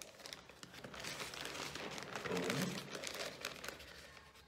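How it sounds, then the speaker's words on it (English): A plastic Ziploc bag crinkles and rustles continuously as plaster powder is poured into it for casting a footprint, close and fairly steady, with a brief spoken word over it. "So I'm gonna put this into my Ziploc bag."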